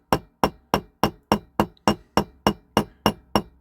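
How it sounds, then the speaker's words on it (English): A hammer peens over the end of a thick axle on a restored 1959–61 Dinky Toys Thornycroft Mighty Antar diecast model. Twelve sharp metallic taps land in a steady, even rhythm about three per second, close and clear with nothing else heard. "what you're doing is you're peening over the edge"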